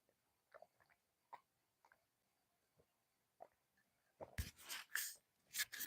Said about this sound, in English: I hope y'all didn't hear me gulping